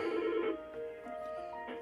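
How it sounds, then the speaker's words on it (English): A telephone ringing in a home workshop during soldering work, a steady electronic ring with harmonic tones sounding in bursts at moderate level, with no talk over it. "every phone I had was ringing"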